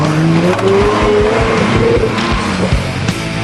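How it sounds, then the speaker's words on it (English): A powerful car from a muscle car collection roars loudly and close, its engine revving through several throaty surges, with tires squealing briefly over the continuous rumble. "Every car in his collection has an intimidating roar"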